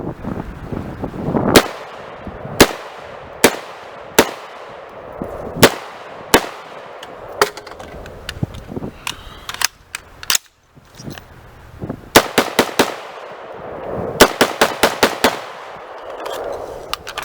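CAR-15 retro reproduction rifle fired at an outdoor range in cold weather, a series of sharp individual gunshots, some spaced apart and some in quick strings, loud and close with quieter pauses between.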